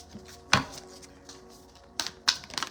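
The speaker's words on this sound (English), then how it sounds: "I'm going to pull one more card then end it." A tarot card is pulled from a deck, bringing a sharp close card snap followed later by a couple of quick papery flicks and shuffles over a faint background hum.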